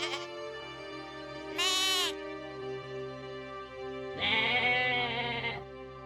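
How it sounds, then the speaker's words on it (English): Rocky Mountain goat on steep cliffs bleating in two loud, wavering calls separated by a short pause, heard clearly and close with no talk. "the Rocky Mountain goat stands as the supreme acrobat of the heights"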